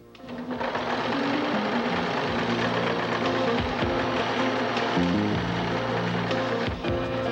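A Brother VX1010 sewing machine stitches a satin stitch, running steadily and closely with a continuous rapid mechanical whir and knocking rhythm for several seconds.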